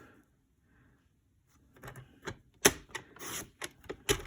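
A paper trimmer slices card stock, giving a short burst of scraping, clacking cuts after a quiet start, close and fairly loud with no talking.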